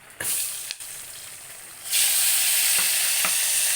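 Cumin seeds and asafoetida hitting hot oil for tempering. A soft hiss and a few spoon clicks give way partway through to a loud, steady close-up sizzle.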